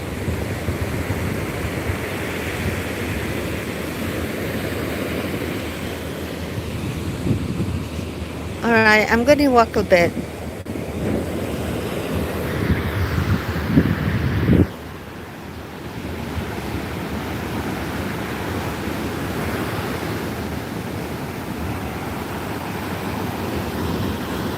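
Steady ocean surf washes along a beach by dunes, with heavy wind buffeting the microphone; a person speaks briefly over the roar of the breaking waves.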